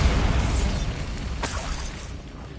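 In Hogwarts Legacy, a Bombarda blasting spell goes off with a heavy booming explosion, a loud rumbling burst with a sharp crack midway that slowly fades.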